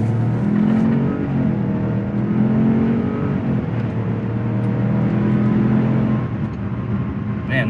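A 2021 small luxury crossover engine, Mazda CX-30 or Buick Encore GX, revving steadily in a smooth sustained drone heard from inside the cabin, rising and holding without speech.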